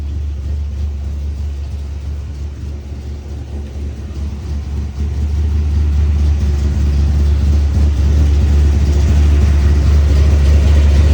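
A 1977 Chevrolet El Camino V8 with blown-out header gaskets runs steadily with a deep, loud rumbling idle that swells and grows louder about halfway through.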